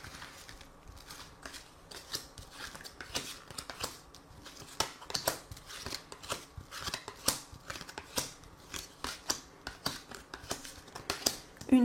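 Tarot cards being shuffled for a reading, a steady run of crisp riffling and slapping bursts close up, repeated over and over with no voice.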